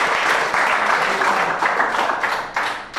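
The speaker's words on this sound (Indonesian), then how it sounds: "Beri tepuk tangan untuk mereka yang sudah maju." A room of people clapping together, loud and close, with a brisk dense rhythm that continues throughout without talking.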